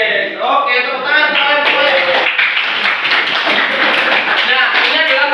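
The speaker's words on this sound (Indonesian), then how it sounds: "Oke, tepuk tangan." Classroom clapping after a teacher's prompt, a burst of overlapping hand claps under voices, close and moderately loud, continuing for several seconds.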